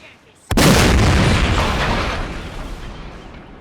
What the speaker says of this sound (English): And John Chamberlain continuing to work with the cannons.